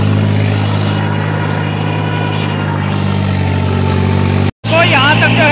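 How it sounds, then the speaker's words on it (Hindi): A 3630 tractor engine runs steadily at reduced RPM, about 2000, with a loud, constant low drone, a brief cut near the end and someone talking over it. "2000 RPM पर आ गया, 300 RPM ड्रॉप करके चल रहा है भाई ट्रैक्टर"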